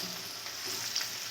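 Okra sautéing in hot oil in a pan, a steady soft sizzle with a faint hiss and no voices.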